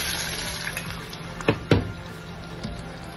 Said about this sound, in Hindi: अब इसमें शामिल करेंगे थोड़ा सा पानी।